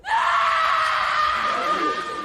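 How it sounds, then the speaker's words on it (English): A woman's loud, sustained high-pitched scream rings out alone for about two seconds, strained and unbroken, with no talking around it. "She screamed."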